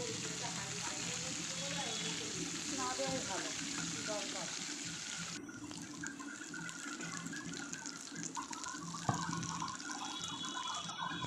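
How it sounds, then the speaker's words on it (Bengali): Pieces of pointed gourd frying in oil in a home kitchen, a steady soft sizzle and crackle running throughout at low level, with faint background sounds. "তারপরে পটলটাকেও আমি লাল লাল করে একইভাবে ভেজে নেব।"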